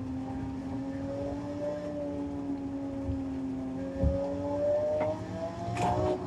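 A car engine in the racing game Assetto Corsa drones steadily with rising and falling pitch, revving up near the end, loud and continuous with no talking.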